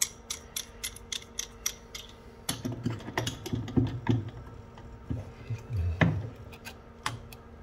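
A spanner ratchets on a nut while fitting a toilet ballcock valve, a close series of quick metallic clicks in irregular bursts, with some heavier clunks and scrapes midway.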